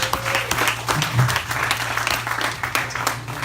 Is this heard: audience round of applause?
yes